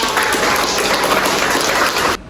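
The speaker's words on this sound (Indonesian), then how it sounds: "Tepuk tangan dong untuk Ilham." An audience applauds steadily for Ilham during a university teaching session, dense clapping that stops abruptly.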